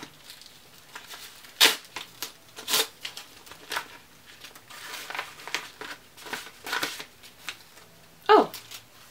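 A small paper packet envelope is handled and torn open, with sharp crinkling rips and papery rustles in close, irregular bursts, and a quiet voice murmuring in the background.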